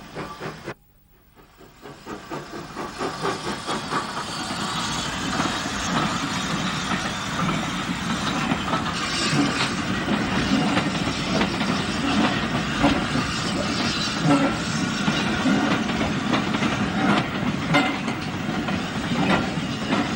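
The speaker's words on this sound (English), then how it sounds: "The branch was steeply graded, and the tank engine had to work hard on their push-pull trains." A steam tank engine works hard hauling a push-pull passenger train up a steeply graded branch line, a loud, sustained chuffing hiss that builds after a brief quiet start and continues steadily without talk.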